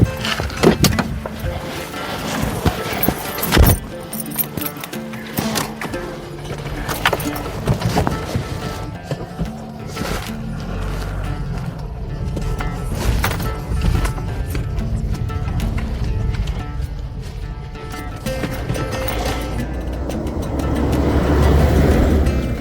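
A car drives on a mountain road from Khardung La toward Nubra Valley, heard from inside as a continuous rumbling engine and road noise with rattles and bumps, swelling louder toward the end.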